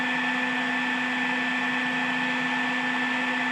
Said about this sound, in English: with this hair dryer